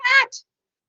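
A single short meow followed by a tiny high chirp, close and clear, then silence.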